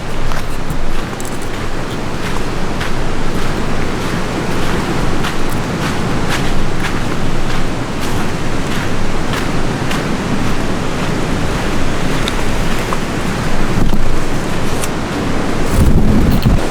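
Flooded creek water rushes steadily in a broad, loud wash like surf, continuous and unbroken, with gusts of wind buffeting the microphone and no talking.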